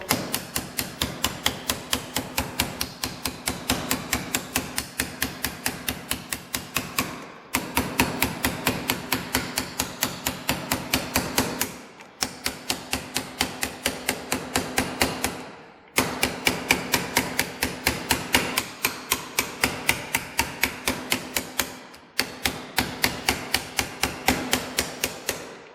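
Rapid, steady hammer blows on sheet metal, shrinking it as it is pounded, ringing and close, in long runs separated by brief pauses.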